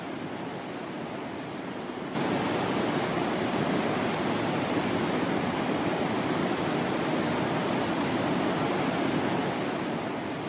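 A river runs along an Ecuadorian Andean east-slope valley as a steady, loud broadband rush of flowing water, continuous and alone throughout, rising slightly in level after the first couple of seconds.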